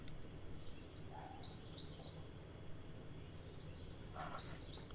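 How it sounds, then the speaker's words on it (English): Birds sing outdoors on a fine day, scattered chirps and short song phrases coming and going at moderate distance over a steady low background hum, with no talking. "Goodness, I got lots of birds singing today."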